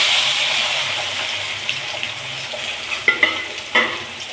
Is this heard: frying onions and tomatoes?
yes